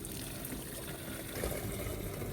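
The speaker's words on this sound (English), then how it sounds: "Yes, the water's running." Water from a public tap runs steadily into a 5-liter bottle outdoors, a continuous close hiss and gurgle with no one talking.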